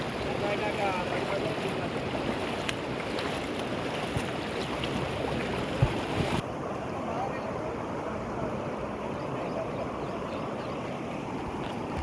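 Floodwater from an overflowing channel rushes across farm fields into a village pond, a steady, dense outdoor roar of flowing water that continues throughout, with someone speaking over it.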